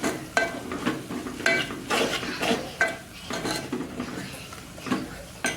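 Spoon stirring spices and garam masala into mashed eggplant oro in a pan, with repeated scraping strokes and light sizzling that hold steady at close range, and no talking.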